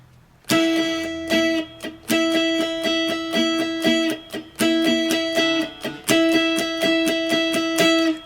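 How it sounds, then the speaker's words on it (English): Guitar chord for the Rocky movie theme strummed gently with a pick in a steady down-up pattern, bright ringing strums repeating in clear bursts, close and alone. "Now I'm striking these strings very gently with the pick."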